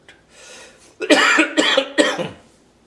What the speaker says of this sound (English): I think I always cough in explaining these things.